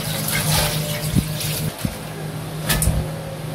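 Water pouring from a tap into a cooking pot holding pork trotters and bones, a steady rushing splash with a few knocks against the pot, close and alone.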